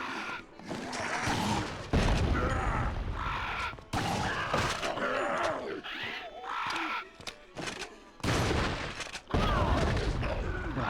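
Thrown dynamite explodes repeatedly in the Dead Rising video game on Wii: loud, booming blasts come in quick separate bursts with short gaps between them, and voices are mixed in among the blasts.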